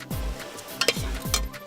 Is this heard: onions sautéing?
yes